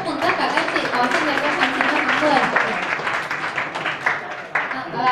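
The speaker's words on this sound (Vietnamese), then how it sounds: "một tràng pháo tay này" A room full of people breaks into warm, sustained applause that tapers slightly toward the end.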